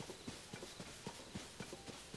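Horse hooves clip-clop in a steady trotting rhythm in Zelda: Tears of the Kingdom, soft and quite faint, with regular hoofbeats over a low background.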